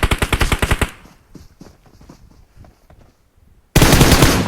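Rapid automatic gunfire from the mobile battle-royale game PUBG Mobile, loud bursts at the start and again at the end, with quieter scattered shots and game noise in between.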